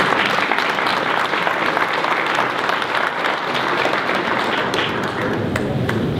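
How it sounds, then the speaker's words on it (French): An audience at a municipal New Year's greetings ceremony in Trégastel applauds the town's resident of the year, a full, continuous roar of clapping filling a hall, with a few sharper claps near the end. "Voilà, on peut l'applaudir."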